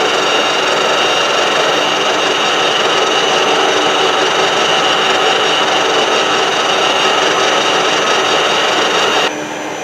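Power drill running steadily during a small repair job, a loud continuous whirring rasp that holds even for nearly ten seconds before dropping off at the end.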